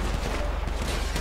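Rapid continuous gunfire from a gun in the video game GTA 5, a dense rattling burst of shots with no pause across the short stretch.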